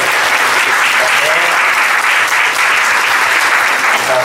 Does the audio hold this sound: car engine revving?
no